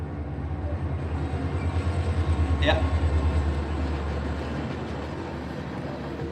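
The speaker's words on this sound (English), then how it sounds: "I think this is our freight train." A freight train rolls past on a model railway layout with realistic sound effects, a steady rumble with rhythmic clatter swelling and fading, a sharp squeal near the middle, and a brief spoken word.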